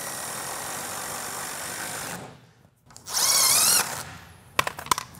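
A power drill drives screws up from the bottom to join parts of a homemade paint booth frame, with a steady whir for two seconds, a pause, then a loud high-pitched burst and a few short sharp clicks near the end.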